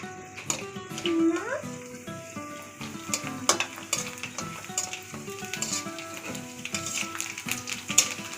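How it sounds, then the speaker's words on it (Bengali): Fuchka puris frying and puffing in hot oil, a busy crackling sizzle throughout with sharp pops, ladle taps and clinks of a pan nearby, a faint voice now and then. "এই যে মা এখানে আনে ফুচকাগুলো ভেজে দিচ্ছে আমাকে"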